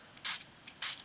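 Two short bursts of aerosol spray over a leftover sticker stencil for mixed media art journaling, each about a tenth of a second of close, bright hiss separated by a brief pause.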